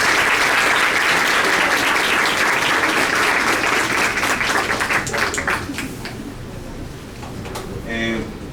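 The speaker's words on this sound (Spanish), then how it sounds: "le damos un fuerte aplauso" A seated audience at a panel session gives a strong round of applause, dense steady clapping that holds loud for about five seconds before thinning into scattered claps and fading, with a murmur of voices at the tail.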